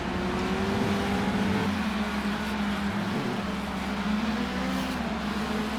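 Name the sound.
train of race cars passing on track under caution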